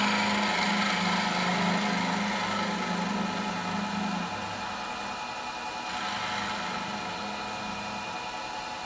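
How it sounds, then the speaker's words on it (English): A small spindle gouge cuts into a natural-edge wooden bowl spinning on a lathe, producing a steady close whirring hiss with a low hum that eases partway through as the cut lightens. "I'm going to take the rest of that out with a spindle gouge"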